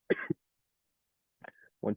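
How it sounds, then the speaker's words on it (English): Two separate bursts of coughing from a man with a sore throat, a short pair at the start and another rough cough near the end, close and fairly loud with silence between. "So sorry about the coughing. I have a sore throat."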